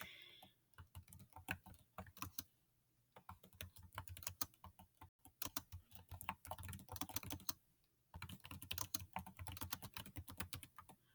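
Computer keyboard typing, quiet and close, with rapid irregular key clicks in several bursts separated by brief pauses.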